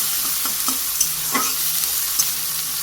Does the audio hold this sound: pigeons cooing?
no